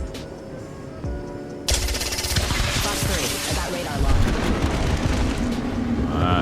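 Valkyrie's mini rockets firing in mid-flight in Apex Legends: a quiet opening, then a sudden loud burst of rapid explosive bangs layered over a jetpack roar that continues to the end.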